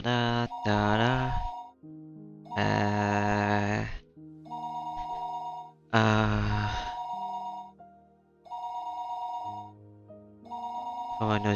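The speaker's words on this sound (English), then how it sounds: "The phone rang noisily downstairs." Telephone ringing downstairs in the Higurashi When They Cry game, repeated electronic ring bursts separated by short gaps, clear and fairly loud with a faint tone in the pauses.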